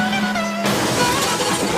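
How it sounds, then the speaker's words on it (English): A flatbed wagon smashes into a stack of roofing slate in a model-railway crash, giving a loud, sustained shattering and crashing clatter that fills the short moment after a steady tone cuts off. "Flatbed biffed into the sidings to a stack of roofing slate and smashed it into"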